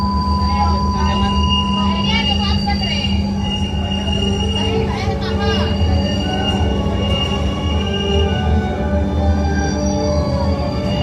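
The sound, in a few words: riding inside LRT train, South Sumatra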